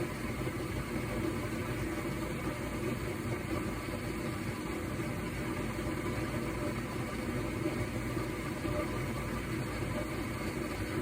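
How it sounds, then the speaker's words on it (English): A gas furnace starting up, its draft inducer fan motor running with a steady, even mechanical hum and low rumble that holds at one level from start to finish, close by and without talk. "the thermostat calls for heat, the draft inducer fan motor starts"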